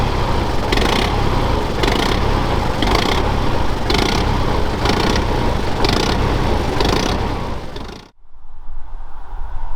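A red Unimog engine runs steadily while the truck creeps along in an extra-low crawl gear, a loud continuous rumble with a rhythmic pulsing that cuts off abruptly near the end.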